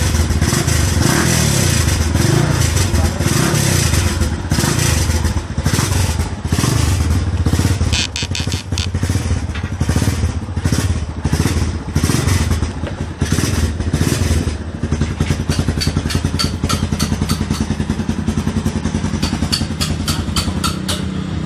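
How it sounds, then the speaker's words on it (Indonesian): A Yamaha Scorpio cafe racer motorcycle runs loud and close with a harsh, popping exhaust, its engine revving and blipping steadily with metallic clatter throughout. "Jadi bunyinya ngeblar-ngeblar ya?"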